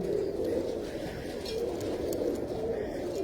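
A pigeon coos steadily in low, throaty murmurs, close and continuous, with no voices over it.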